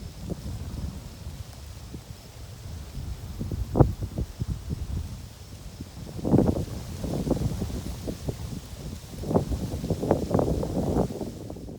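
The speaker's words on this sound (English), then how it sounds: "Got a pretty heavy wind, about 12 mile an hour." Heavy wind of about twelve miles an hour blows through woods on a warm North Dakota evening, rumbling against the microphone in low buffeting gusts that swell and fade with faint rustling.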